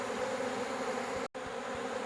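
Bees buzz steadily and densely around a bucket feeder outdoors, a close, continuous hum with brief louder passes as individual insects fly near.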